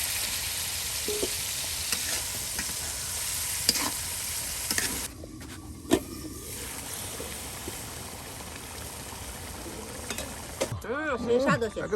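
Small village freshwater fish dropped into hot oil in a pan for a sour curry, sizzling and crackling steadily with stirring clatter, a sudden hiss as they go in, and a voice speaking over it.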